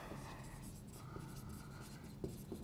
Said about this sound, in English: I'm just going to do some notes on the whiteboard